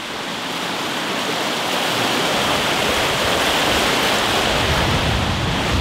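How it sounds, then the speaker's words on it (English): A fast-flowing river on a military training ground rushes loudly and continuously, a dense broadband roar of churning water heard close by, steady throughout with no voices. "Look at the speed of this river."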